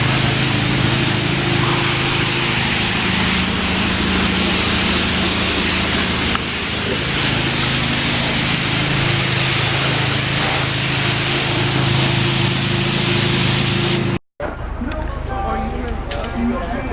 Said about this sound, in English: Ooh, time to wash the car.